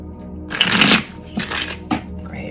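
Close, crisp riffling of a tarot card shuffle in a few quick bursts, with brief pauses between them.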